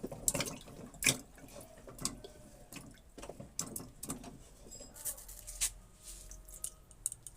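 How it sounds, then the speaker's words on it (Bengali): Water going into a pressure cooker with potatoes comes through as quiet, broken splashes and drips in short irregular bursts, with no speech. "কুকারে আমি প্রথমে কিছুটা জল দিয়ে দিলাম"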